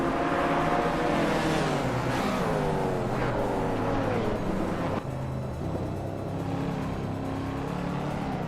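A 1994 Ferrari F355 Berlinetta F1 race car engine drones loud and steady in a race, holding a continuous rising and falling roar with harmonic whine throughout, no speech.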